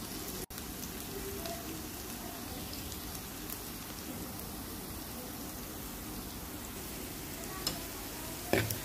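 Onions fry in a pan until deep brown for potato mash, giving a low, steady crackle and sizzle with a few louder spatters and clinks near the end.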